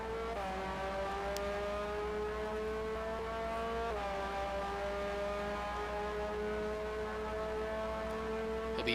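Simulated Formula race car in a French Grand Prix racing game, its engine holding a loud, sustained high whine along a straight, with the pitch climbing steadily and a quick dip at an upshift.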